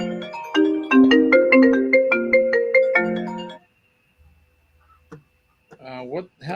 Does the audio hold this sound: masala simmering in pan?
no